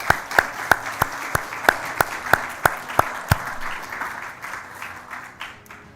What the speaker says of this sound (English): Let's give them a hearty applause.